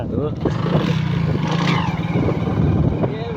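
A motorcycle engine with a chain that keeps catching hums steadily close by while riding on a damaged road in Nepal, with a person talking over the engine noise throughout.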